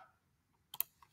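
A computer mouse clicks a couple of times in quick succession, crisp and close, in an otherwise near-silent room.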